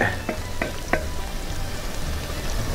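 A chorizo mixture fries on an outdoor disk cooker, giving a continuous, fairly loud sizzle, with three quick utensil taps near the start and the frying hiss carrying on alone afterward.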